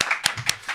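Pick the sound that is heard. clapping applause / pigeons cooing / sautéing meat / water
clapping applause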